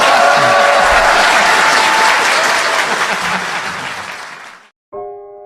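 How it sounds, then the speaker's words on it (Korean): An audience bursts into loud, dense applause that slowly thins and fades out over several seconds, followed by a brief musical tone. "박수 부탁드립니다."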